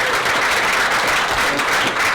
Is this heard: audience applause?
yes